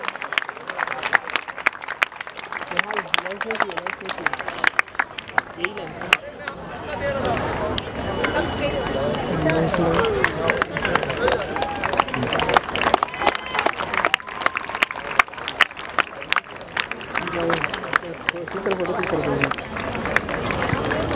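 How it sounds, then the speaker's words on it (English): Loud crowd applause for three girls who represented India from Mumbai at a youth football league event, sharp scattered claps building into dense sustained clapping with crowd chatter and voices underneath. "Can we have a loud round of applause for these three wonderful girls who represented India here"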